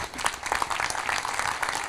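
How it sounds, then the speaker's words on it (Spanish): An audience at an open day talk applauds a speaker, many hands clapping in a close, steady patter at moderate volume throughout. "Le damos un aplauso a Mica Solé"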